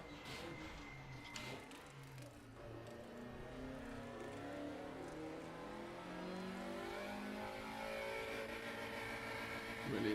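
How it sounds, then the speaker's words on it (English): Race car engine in the RaceRoom racing game, revving steadily with rising and falling harmonic sweeps as gears are rapidly upshifted, loud and continuous throughout. "I'm just spamming the upshift now."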